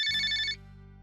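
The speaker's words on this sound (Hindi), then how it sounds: "माँ जी उठिए, देखिए मौसी जी का फोन आया है" A telephone rings with a single electronic ringtone burst, loud and close, cutting off after about half a second and leaving a low hum.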